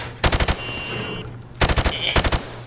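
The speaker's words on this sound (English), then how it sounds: "Now, shoot at the targets while firing from the hip." Rifle fire from the hip at range targets in Call of Duty: Modern Warfare Remastered, heard as two loud bursts of rapid shots separated by a short pause, with no talking.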